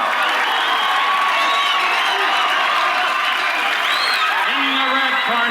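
Boxing arena crowd cheering and roaring as Apollo Creed enters the ring, a dense sustained wall of shouts and whoops at high level throughout, with voices mixed into the din.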